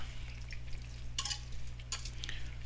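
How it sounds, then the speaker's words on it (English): Chicken being stirred into sautéed ingredients in a pot for a basil chicken stew: steady low sizzle with a couple of sharp scraping clatters of a spoon against the pot, close and clear, no talking. "we're going to add all of our chicken into our pot now. Okay, and we're going to get this all good and stirred up"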